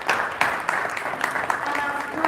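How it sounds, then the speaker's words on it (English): An audience at a cooperative gathering claps steadily in a dense, close wash of applause, with a voice faintly audible underneath. "I want us to clap for these people who came together"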